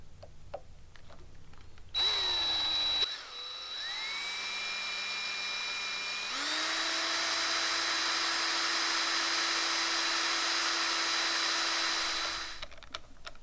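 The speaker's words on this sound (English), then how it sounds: "now we're going to go ahead and drill with a 7/32 bit" A power drill with a 7/32 bit bores into a billet clip-on handlebar for a Honda Grom. A steady, high-pitched whine runs for about ten seconds, shifting pitch as the bit bites and then settling into a constant drone.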